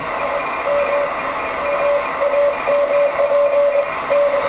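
A steady series of short electronic Morse keyer sidetone beeps at one pitch, from a K1EL K42 keyer worked with a paddle, sounding in quick bursts and runs, fairly close over a faint background hiss.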